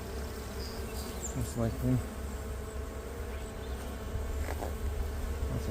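Honey bees buzz steadily around beehive boxes, a dense close swarm hum that runs the whole time, with brief quiet talk over it.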